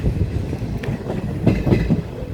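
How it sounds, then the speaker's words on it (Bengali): Hazarduari Express train rolling into Ranaghat junction, a steady low rumble of wheels and carriages with faint rhythmic clatter, close and continuous with no voices. "ট্রেন রানাঘাট জংশন ঢুকছে।"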